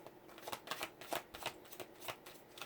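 Oracle cards being shuffled by hand, a steady run of soft papery riffles and flicks repeating in quick rhythm, close and fairly quiet with no talking.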